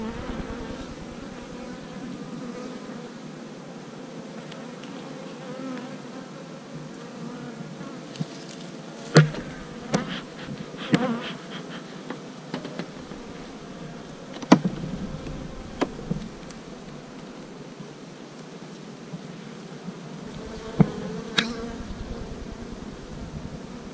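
Honeybees hum steadily around hive frames, a soft continuous drone in which single bees buzz closer now and then. Occasional clicks and knocks of handling break through the drone.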